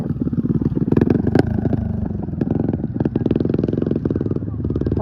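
A motocross motorcycle engine chugs and revs nearby with a rough, pulsing rattle at a race final heat, while people talk over it.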